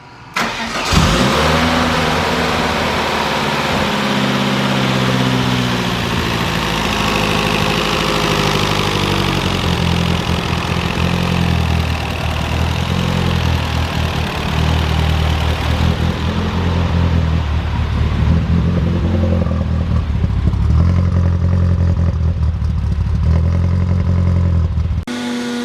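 A Spirit R/T fitted with a 2.5 stroker T3 engine and MagnaFuel 750 fuel system fires up for the first time, then idles and revs loudly and steadily up close for the whole stretch, with no one talking.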